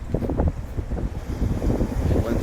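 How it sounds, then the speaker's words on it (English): Gusty wind buffets the microphone at a shoreline while rough surf churns nearby, a steady, close, rumbling roar with no break. "The wind's definitely pushing the surf up."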